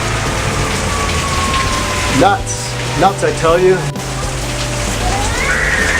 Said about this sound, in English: Still raining. Unbelievable.